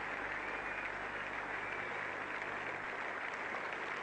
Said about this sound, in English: a lot of that applause from the England players is in relief